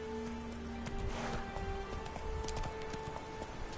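A horse gallops in the Witcher 3 video game, a quick, even clip-clop of hooves heard up close over a quiet game background with faint tones.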